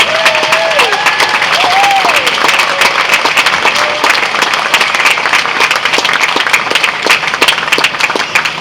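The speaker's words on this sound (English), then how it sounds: "Please give them a nice warm applause." An audience at an orchestra concert applauds singers with steady, dense clapping throughout. The applause is close and even, and a few voices call out faintly beneath it.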